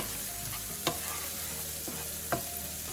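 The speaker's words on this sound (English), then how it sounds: "occasionally stir your vegetables in, and when they start to brown, then you can add in your shrimp" Vegetables with onions and garlic frying in a pan for shrimp and grits, a steady sizzle with two sharp scrape-and-clack stirring hits of a utensil against the pan.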